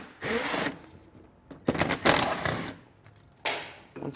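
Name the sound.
power driver with Torx bit removing fasteners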